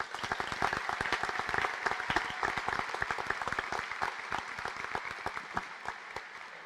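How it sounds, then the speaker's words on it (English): Graduation audience at a Roanoke College ceremony breaks into sustained applause, many hands clapping in a dense, steady patter that stays even and continues without pause. "Maybe one round of applause for all 3 degrees."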